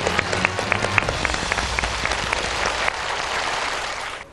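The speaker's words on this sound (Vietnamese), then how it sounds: "quý vị dành một tràng vỗ tay thật lớn" Studio audience on the Vietnamese TV game show Đuổi hình bắt chữ bursts into loud, sustained applause, a dense wash of clapping that holds steady, then tapers off at the end.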